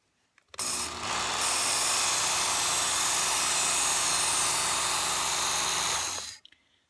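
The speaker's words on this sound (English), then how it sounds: "I'm going to run it through 7 or 8 times on this left side just to get a burr on this blade" A Work Sharp belt knife sharpener grinds a knife blade at medium speed, a loud, steady abrasive whine that starts abruptly, holds for about six seconds, then cuts off.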